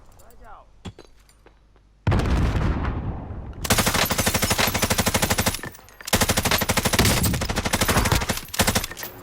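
Video game gunfire from an automatic rifle: long, loud, rapid bursts of close shots with a short pause between strings, following a softer lead-in with a voice talking.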